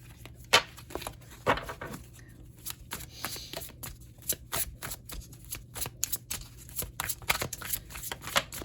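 Tarot cards are shuffled in quick, repeated riffles and flicks, a dense run of crisp papery slaps and rustles close to the ear, with no speech over them.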